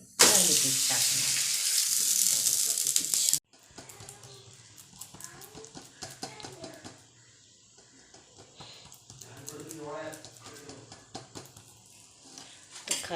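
Thalipeeth fries with ghee on a hot griddle, a loud hissing sizzle for a few seconds that abruptly drops to a quieter crackle with scattered utensil clinks.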